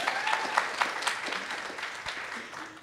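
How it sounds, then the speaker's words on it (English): Steady applause from an audience at a Toronto Rehab fundraising event for Bell Let's Talk, a dense patter of many hands at moderate distance with a faint voice briefly over it. "round of applause"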